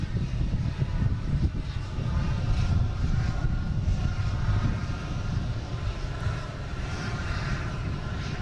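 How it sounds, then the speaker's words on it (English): A Delta Embraer E175 jet arriving from LaGuardia at Boston Logan gives a steady, loud low engine rumble with a hissing upper layer, continuous and without pauses. "We have a Delta coming in from LaGuardia."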